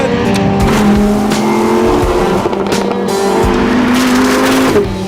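A two-wheel-drive Lamborghini Huracán LP 580-2 driven hard, its engine loud and close as the tires squeal through a corner for several seconds, with shifting engine tones and no talking.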